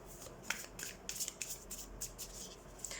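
Tarot cards being shuffled and drawn by hand, making soft quick riffles, slaps and brushing flicks in an uneven rhythm, quiet and close with no talking.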